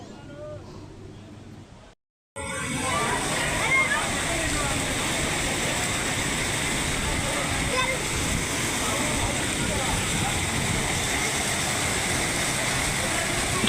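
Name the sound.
waterfall at Kempty Falls near Mussoorie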